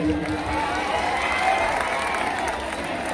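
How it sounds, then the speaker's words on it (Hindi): A large crowd at a political rally applauds steadily, a dense wash of clapping with some cheering mixed in, loud and continuous throughout. "पीछे वाले लोगों से दरख्वास्त करता हूं कि इनके लिए तालियां बजा दीजिएगा"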